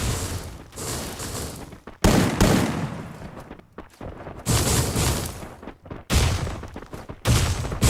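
Loud bursts of rapid gunfire come in several waves, each volley sustained for a second or two before breaking off, with echoing blasts.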